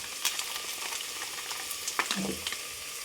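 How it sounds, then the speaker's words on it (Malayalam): A curry with garam masala sizzles in a pan as a spoon stirs it, making a soft continuous frying hiss broken by clinks and scrapes, close and fairly quiet, with no speech. "ഇളക്കി നോക്കട്ടെ ഇളക്കിടാം"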